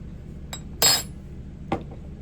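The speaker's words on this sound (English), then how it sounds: "Let me get a spoon real quick." A metal spoon clinks against dishes in a home kitchen where pesto with garlic, pine nuts, basil and Parmesan is being made: a light tap, then a louder bright clatter, and a final sharp clink, close and alone.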